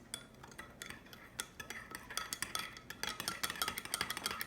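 A small spoon clinks and scrapes in a bowl, lightly stirring yeast and sugar, with quick irregular taps that grow busier and slightly louder toward the end, close and alone.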